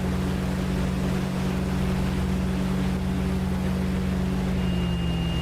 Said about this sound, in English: one of my engines is racing